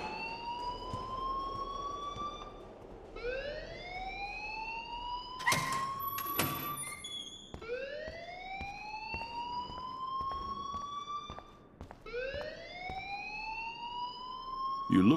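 An alarm in the video game Life Is Strange wails in repeated rising whoops, each sweep climbing and fading before the next starts. Several sharp clicks and knocks break in partway through.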